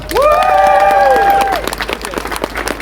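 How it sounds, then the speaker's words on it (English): At a trans rights rally, a nearby crowd lets out loud whoops and cheers over scattered clapping, then the clapping thins out into lighter, uneven patter. "Can we get another amazing round of applause?"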